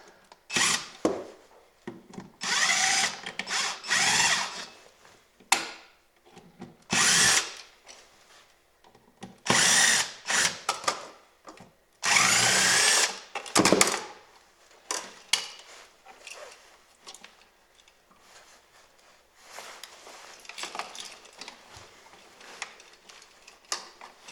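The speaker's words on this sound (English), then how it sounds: "Why am I doing this by hand when I got power tools?" A power tool drives screws while electrical plugs and switches are installed for LED shop lights, heard as repeated loud whirring bursts with short pauses between them and no talking.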